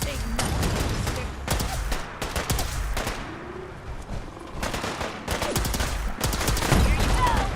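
Rapid gunfire in the Fallout 4 Far Harbor video game crackles in dense, irregular bursts of shots and machine-gun fire, loud and close throughout a foggy fight, with brief shouting mixed in.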